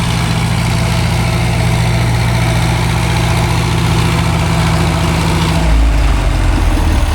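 A loud heavy tractor engine runs steadily at high revs on a dynamometer with a deep drone, shifting to a lower rumble near the end, close and constant, at a county fair antique farm machinery display.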